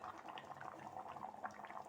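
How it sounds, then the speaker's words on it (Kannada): Cucumber sambar bubbling away in a pot, a steady soft simmer of small popping bubbles and liquid gurgle that continues evenly throughout without speech. "ನೋಡಿ ನಮ್ಮ ಸೌತೆಕಾಯಿ ಸಾಂಬಾರು ಚೆನ್ನಾಗಿ ಬೇಯ್ತಾ ಇದೆ ನೋಡಿ, ಕುದೀತಾ ಇದೆ ನೋಡಿ"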